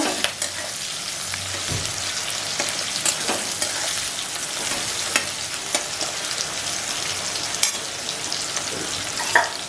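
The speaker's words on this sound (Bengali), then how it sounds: "পেঁয়াজ কুচিটা একটু সামান্য ভাজা হোক" Chopped onion frying in a pan for an ol (elephant foot yam) and potato curry, a steady close sizzle with occasional stirring scrapes and pops, no voices.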